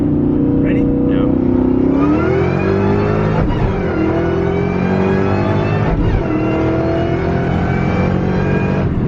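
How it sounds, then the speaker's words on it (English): A 600+ hp Cobra sports car pulls hard from inside the cabin, its loud engine climbing through the revs with shift breaks along the way, while people talk faintly underneath. "Alex's first time driving the Cobra."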